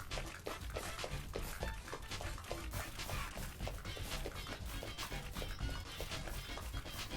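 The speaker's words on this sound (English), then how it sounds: "That's the dog running, apparently." A dog's running footsteps in the video game Deadly Premonition make rapid, evenly spaced squelchy patters, like something being stirred fast, continuing steadily and loudly for several seconds with no voices.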